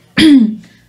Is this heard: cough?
yes